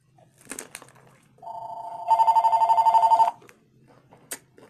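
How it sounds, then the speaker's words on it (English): A house phone rings in a regular electronic trill, one clear burst of about a second rising out of quiet room noise, with a few faint knocks and clicks before and after. "Ain't a house phone been ringing."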